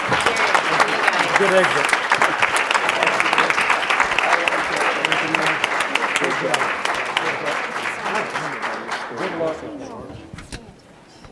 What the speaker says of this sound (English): we should all stand to our feet and show our appreciation for this panel